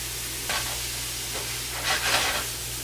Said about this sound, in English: Now go ahead and cook all your vegetables.